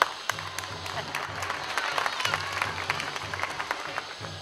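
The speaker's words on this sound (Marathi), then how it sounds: "टाळ्या टाळ्या।" Audience applause from a crowd: dense, steady clapping that runs the whole stretch at moderate level, with a faint low tonal hum underneath.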